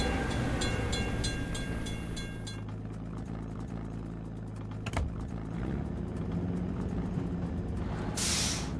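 A train passes a closed crossing in a truck simulator video game, a continuous loud rumbling rail roar with a brief early ringing tone, a sharp clank midway and a hiss near the end.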